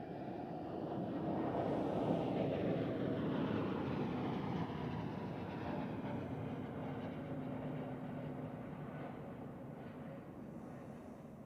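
A passenger jet takes off from runway 28 at Zurich Airport, heard from a distance as a broad, steady roar that swells early and then slowly fades, with a faint high whine drifting over it.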